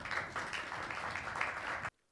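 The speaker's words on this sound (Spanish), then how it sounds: "Vamos a despedir a Pablo, por favor, con un fuerte aplauso." A conference audience applauds after a talk in an archaeology session, a soft, even patter of clapping that runs steadily and then cuts off abruptly into silence near the end.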